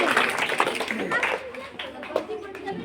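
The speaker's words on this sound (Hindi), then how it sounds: "चलिए इसके लिए भी ताली बजाया जाए।" An audience at an award ceremony claps steadily, the applause continuing under someone talking over a loudspeaker.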